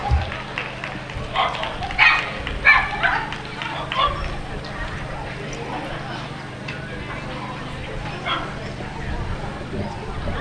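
Dogs at a championship dog show hound group bark in a few short bursts early on, then fade into a busy hall murmur with people talking.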